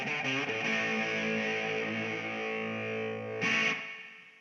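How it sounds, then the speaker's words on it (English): A Sonicake guitar pedal set for tube-like distortion with its compressor engaged: a thick, sustained overdriven chord rings out steadily, then a fresh strum near the end briefly brightens it before it fades. "The result is a convincing tube-like distortion, especially in combination with the compressor."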